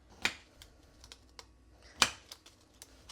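A knife cuts a homemade protein bar slab into eight pieces in a kitchen, giving two sharp knocks against the board with a few lighter clicks between, otherwise quiet.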